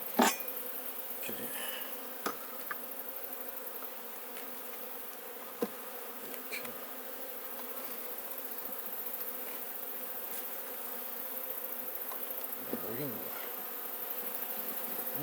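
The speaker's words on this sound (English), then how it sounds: "Okay, and we've already found bees." Honeybees hum continuously around an open backyard beehive during a hive inspection, a close, steady droning buzz with a few sharp knocks from handling the hive equipment.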